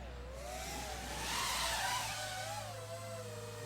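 Nazgul Evoque F5 V2 FPV freestyle drone passing at full throttle, a steady high-pitched whine of spinning props that swells and bends in pitch as it sweeps by, loudest midway through, continuous with no talk.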